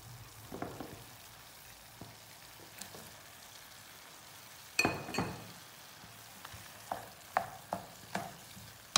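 Vegetables and macaroni sizzle quietly in a pan while a spoon stirs them, giving scattered sharp clinks and scrapes against the metal at irregular intervals over a soft frying hiss.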